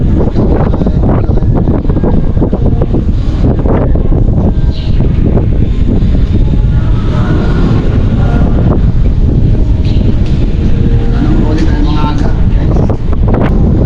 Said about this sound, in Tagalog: ngayon biglang lumakas ang hangin